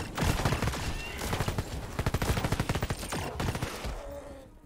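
A light machine gun fires in rapid sustained bursts in the sci-fi tactical game Red Solstice 2, loud and close, with a tight rhythmic rattle of shots.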